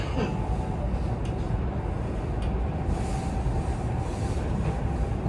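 A quiet passenger train runs through rural southern Sweden in winter, heard from inside as a steady low rumble and hiss with a few faint clicks.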